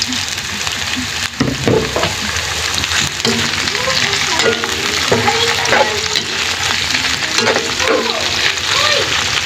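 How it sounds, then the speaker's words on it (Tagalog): Steady, dense sizzling of roast lechon chicken frying in a hot pan, with occasional stirring clatter, loud and close throughout. "ilagay na rin natin yung ating lechong manok para maprito namang mabuti."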